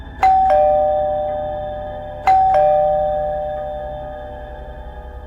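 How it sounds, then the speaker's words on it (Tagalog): Two-tone electronic doorbell chiming twice, each ding-dong ringing out loud and clear in a quiet room before slowly fading. "biglang may nag-doorbell sa amin."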